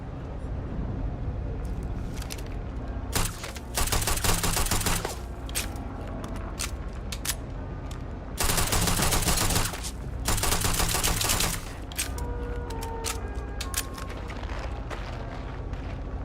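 Gunfire in the space game Starfield, long rattling automatic bursts alternating with stretches of quieter chatter and rumble, loud and close, with no speech.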